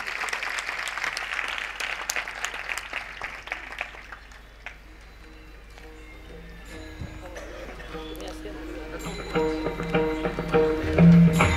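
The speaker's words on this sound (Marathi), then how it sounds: "एकदा जोरदार टाळ्या वाजवा यांच्यासाठी" Applause from an audience at a Marathi Warkari felicitation ceremony, broad clapping in the first few seconds that fades, later giving way to music and ambient hall noise.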